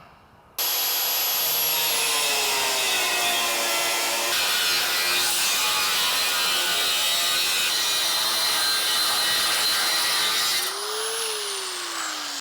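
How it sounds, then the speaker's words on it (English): Power cutting tool slicing through a GTO restomod front bumper, a loud continuous abrasive whine that holds steady for about ten seconds before tapering off, with no talking. "Let's cut on this bumper."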